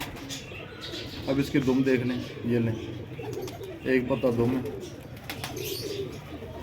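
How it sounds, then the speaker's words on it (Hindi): Pigeons coo in low, soft, repeated phrases close by, heard beneath someone talking throughout. "बहुत अच्छे कबूतर है।"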